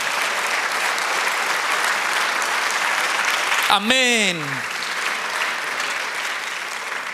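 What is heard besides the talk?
congregation applauding in church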